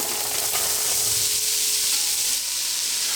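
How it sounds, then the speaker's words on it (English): Roughly chopped brown onion sizzling in a hot pot, a dense continuous frying hiss, loud and close throughout. "Next, I'm going to add in our onion."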